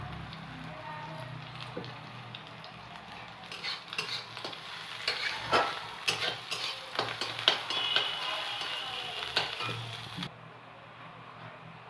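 Chopped onions and ginger fry in ghee as they are stirred, a close crackling sizzle broken by repeated scrapes and clinks of the spoon on the pan, building in the middle and then settling.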